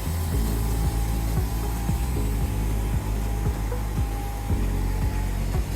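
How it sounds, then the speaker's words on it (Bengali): A CKD CO2 laser cutting machine works through material with a loud, steady whoosh of exhaust and airflow. Low rhythmic mechanical ticks from the moving gantry repeat underneath, with no voice. "এটা হচ্ছে সিকেডির মেশিন, কত সুন্দরভাবে প্রিসাইজ ভাবে কত স্পিডে সে কাটতেছে দেখতে পাচ্ছেন"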